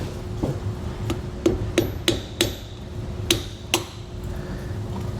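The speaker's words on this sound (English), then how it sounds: "we can try and drive it in with a screwdriver" A screwdriver drives a grease cap into an Easy Grease trailer hub and drum assembly for a 3.5K axle. About nine sharp metallic taps land at an uneven pace, loud and close over a low background hum.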